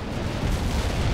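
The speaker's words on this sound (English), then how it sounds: "call in artillery and airstrikes on them" Deep, rumbling artillery explosions in the video game World in Conflict, a dense continuous roar of blasts with no clear gaps between impacts.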